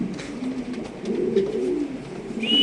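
Lahori pigeons coo at a pigeon market: low, rolling coos repeat close by over a busy background hum, with a brief higher tone near the end.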